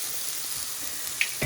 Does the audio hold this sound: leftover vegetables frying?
yes